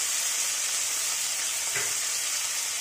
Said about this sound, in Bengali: প্রথমেই কিন্তু আমি এর মধ্যে দিয়ে দেবো কুচানো টমেটো।